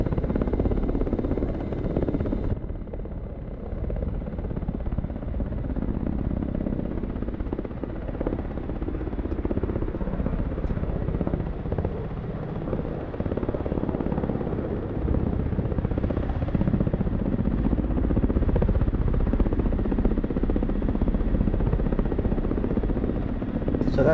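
Ka-50 coaxial-rotor attack helicopter in the DCS flight simulator game, a steady loud close rotor and turbine drone with constant buzz, running unbroken throughout with no talk.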